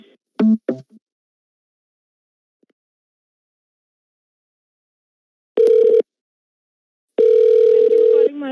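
Loud telephone tones follow the disconnection of a suspected prank call to a phone support line: a short burst of tone at the start, then two longer steady tones after a stretch of silence.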